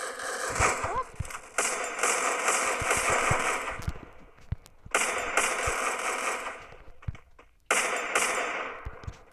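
Bursts of rapid automatic gunfire in a battle royale video game come in long rattling volleys, separated by short pauses, loud and close with a game-like sound.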